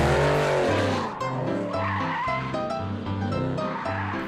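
A supercharged V8 car drifts through a corner on the Albi race circuit, with loud tire squeal and skidding over a pulsing, revving engine heard close by.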